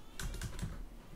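A short terminal command typed on a computer keyboard, a few soft close key taps in quick succession over faint background hiss.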